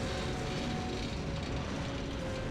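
A helicopter boss in the Metal Gear Solid video game gives off a steady, dense rotor-and-engine roar with a constant tonal hum, loud and unbroken throughout, with no talk.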